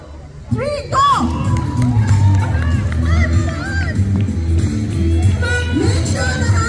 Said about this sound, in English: I request parents to cheer for the team.